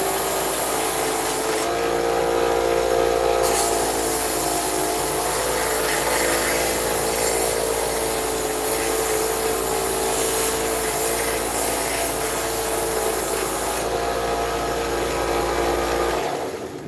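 A belt sander with a worn belt grinds epoxy off the back of a handmade art tool, making a continuous, loud abrasive rubbing roar that holds steady for the whole stretch with slight shifts in pressure.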